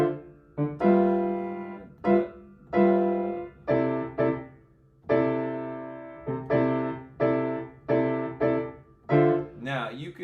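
Piano comping through a II-V-I progression voiced with 6-9 chords, played as short rhythmic stabs in a syncopated pattern, close and clear with gaps between hits.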